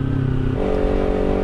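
A Kawasaki Ninja 300 motorcycle engine runs steadily close by, a gritty mechanical hum whose tone shifts slightly partway through the short stretch.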